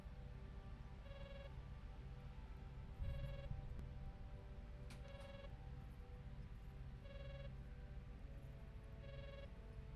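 A star phone rings in a space-themed video game: short chirping tone bursts repeat about every two seconds over steady background game music and ambience.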